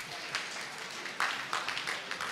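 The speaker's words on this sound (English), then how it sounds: "And give yourselves a round of applause." Scattered clapping from a small crowd at an emergency medical response training session, a steady patter of hands that swells slightly partway through, with no voices over it.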